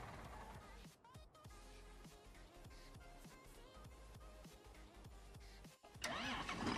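A John Deere 6135J tractor's diesel engine is cranked and fires up in Farming Simulator, with rhythmic starter chugs settling into a running rumble before a louder burst at the end.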